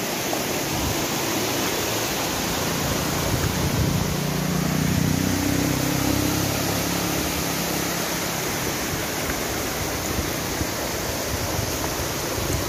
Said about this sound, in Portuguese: São duas quedas. A outra queda é aquela lá.